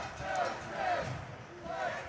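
An ice hockey crowd in the arena swells with rhythmic chanting and cheering, rising and falling in waves at a moderate distance.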